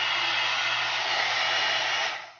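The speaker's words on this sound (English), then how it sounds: "once you turn on, let's hear the sound." 4-in-1 hair dryer styling and volumizer brush on high heat, a steady airy motor whoosh with a low hum, running constantly before cutting off and fading out at the end.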